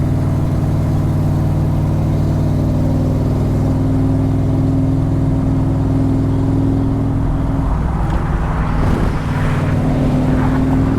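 A Backdraft Cobra roadster with a 302 V8 cruising and shifting into fifth gear: a steady, loud engine drone with a shift in tone near the end and no talk.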